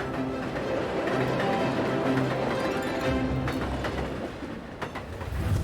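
A freight train leaving Xi'an rumbles along with a steady, close rolling drone and rhythmic wheel clatter over the rails, continuing without a break.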